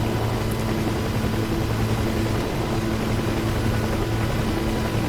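Helicopters, a Huey and an Mi-24 in a video game, make a loud, steady, close rotor and engine drone with a low rhythmic thump that runs throughout.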